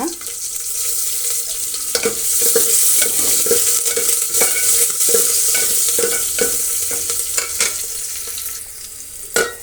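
Ridge gourd sambar tempering frying in a pan with curry leaves and salt, loud steady sizzle with repeated rhythmic stirring scrapes of a spoon, close and without talk.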